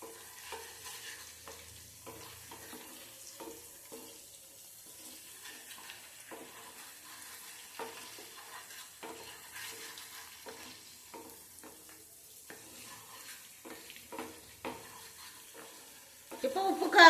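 Egg mixture being stirred in a pan over a low stove flame, soft repeated scraping strokes with a faint sizzle underneath, quiet and close, louder clatter at the very end.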